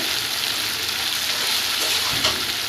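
Ground spices such as turmeric and chili powder frying in a pan for a pangas fish curry, a loud, dense, continuous sizzle and crackle with light stirring, close up and without talk.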